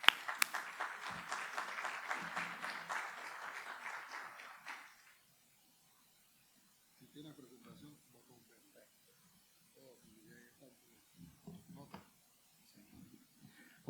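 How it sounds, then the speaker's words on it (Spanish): An audience at a Latin American and Caribbean electromobility conference breaks into dense applause welcoming a speaker. The clapping lasts about five seconds, then gives way to near silence with faint scattered murmurs and shuffling. "Démosle la bienvenida a Hernán Nilo con un fuerte aplauso, por favor."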